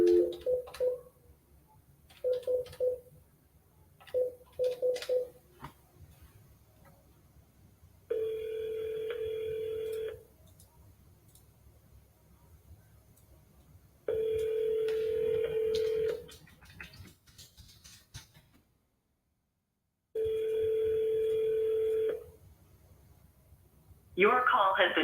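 Repeated telephone ringback tones, three long steady rings separated by pauses after a few short dial beeps, before the call goes through to an automated voicemail system; fairly loud and clear, with brief room noise between rings.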